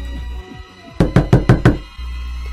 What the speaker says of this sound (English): When suddenly, you hear a knock at the door.